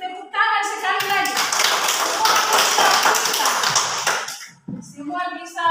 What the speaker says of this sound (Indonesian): Oke, kalau begitu tepuk tangan sekali lagi.